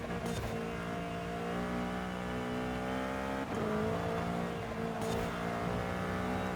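A loud game car engine straining uphill during a Forza Horizon 5 hill climb, holding a high revving whine with short breaks at the shifts.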